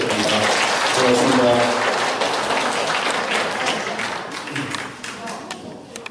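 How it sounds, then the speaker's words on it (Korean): Audience applause at a panel discussion forum in a chamber of commerce hall, broad steady clapping that starts loud and gradually thins and fades, with someone speaking over it. "큰 박수 한 번 더 부탁드립니다"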